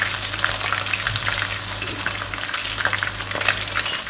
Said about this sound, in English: I'm just going to remove them from heat and fry the second batch.